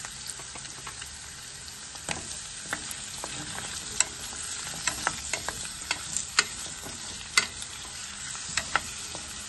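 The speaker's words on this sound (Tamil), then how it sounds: "இந்த எண்ணெயிலே நல்லா இந்த காய் வந்து எண்ணெயிலே கொஞ்சம் நேரம் வதங்கணும்" Pumpkin pieces sautéing in hot oil for a Chettinad tamarind curry, giving a steady close sizzle broken by frequent sharp clicks and scrapes of a spoon stirring against the pan, with no talking.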